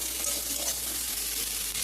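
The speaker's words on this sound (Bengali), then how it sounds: "মশলা যেটা আমরা রেডি করে রেখেছি সেটা দিয়ে দেবো দিয়ে ভালো করে ভেজে নেব" Vegetables and spice paste sizzling in a hot pan for a vegetarian leaf curry, a steady, close frying hiss without pause.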